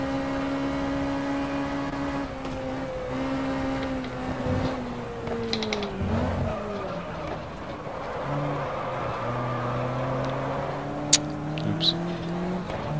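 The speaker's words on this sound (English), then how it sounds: "Rev this thing quite high." Lotus Cortina engine revving high in the racing game GT Legends, a sustained, buzzing drone that rises and falls through gear changes over several seconds, with brief mechanical clunks and a few sharp clicks near the end.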